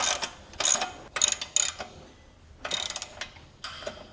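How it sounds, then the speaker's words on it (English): Rapid ratcheting clicks from two 3/4-inch wrenches tightening a bolt on a replacement 1-1/4-inch hitch shank for a Yakima HoldUp bike rack, in about five close, bright bursts separated by short pauses. "now you use 2 3/4-inch wrenches to tighten"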